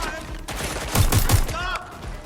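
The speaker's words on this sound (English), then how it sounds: "Shots fired! Shots fired!" Gunfire in the video game Watch Dogs: Legion, a dense burst of rapid shots clustered mid-clip amid game sound, loud and close, with voices nearby.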